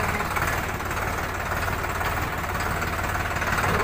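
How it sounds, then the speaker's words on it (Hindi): A Sonalika Sikander RX 35 tractor in the 39 HP class idles steadily nearby with a rough, knocking diesel throb. It runs alone for a few seconds with no talk. "और ये सोनालिका ट्रैक्टर आप मेरा देख सकते हैं"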